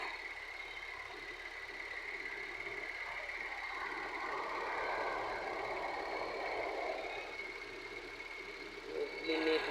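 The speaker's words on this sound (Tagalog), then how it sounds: "Pero ang ganda ng andar ng makina." A Maserati engine that had overheated idles smoothly, a faint, steady hum with a soft whine running under it, and a brief louder bump near the end, while people talk nearby.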